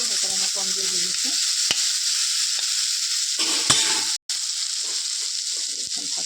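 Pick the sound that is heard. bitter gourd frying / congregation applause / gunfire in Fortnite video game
bitter gourd frying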